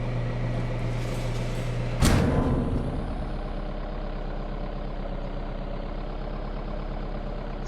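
A box truck's big engine idles with a steady low rumble in a first-person zombie survival video game, broken by one sharp, loud hiss of an air brake releasing partway through.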